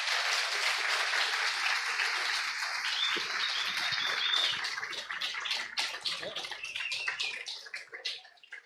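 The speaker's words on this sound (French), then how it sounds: "faire un tonnerre d'applaudissements à Arnaud Thierry de la chaîne Astronogeek" Audience applause for Arnaud Thierry of the Astronogeek channel at a live talk on space myths, a dense, steady burst of many hands that turns sparser and more scattered toward the end.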